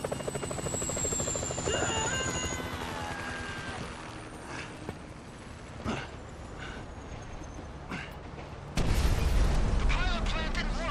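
A helicopter in the video game GTA 5, its rotor and engine roar carrying steadily through the scene alongside game music and effects, with a louder burst near the end.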